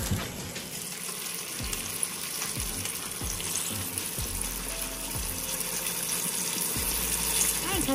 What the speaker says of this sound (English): now we're going to put it in the pot and we're going to brown